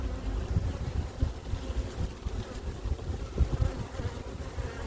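Honey bees buzz in an overwintering hive housing two colonies split by a plastic frame, while frames are lifted and shaken; a dense, steady close drone with low rumbling handling bumps, no talk.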